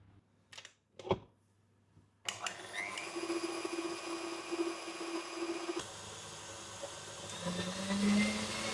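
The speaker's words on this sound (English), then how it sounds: "Then I'm adding one egg and mixing until just combined." Keto chocolate chip cookie dough being mixed with an electric mixer after one egg goes in, a steady whirring motor drone running continuously for several seconds after a few brief knocks.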